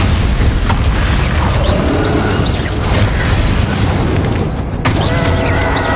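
The Bombarda blasting spell from the wizarding game Hogwarts Legacy, a loud, sustained booming burst that fills the clip and swells in dense rumbling waves, with a sharp crack near the end.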